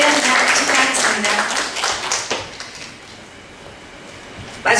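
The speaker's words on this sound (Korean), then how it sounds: "박수로 함께 축하하겠습니다." An audience at a Jeonnam writers' association literary symposium claps in a burst of applause that fades over a few seconds into room murmur, with a voice speaking near the end.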